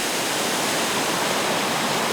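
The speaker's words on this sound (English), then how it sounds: "Don't the rushing thunder of the waterfall and its marvelous scenery make your weariness melt away" Rushing waterfall and fast-flowing creek in Neidong forest, Taiwan, a dense, steady roar of falling water that fills the air continuously, close and loud, with no voices.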